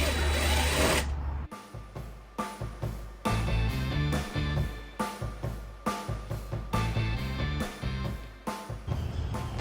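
A power tool spins 7mm bolts out of the door of a 1997 pickup truck in a series of short, close, rhythmic whirring bursts, each starting and stopping repeatedly after a brief burst of hiss at the start.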